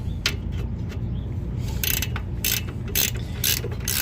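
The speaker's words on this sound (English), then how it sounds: "it's a 17 millimeter ratchet" A 17 mm ratchet works loose a rear brake caliper bracket on a 1999-2013 Chevrolet Silverado, giving short spaced bursts of clicking over a low background hum.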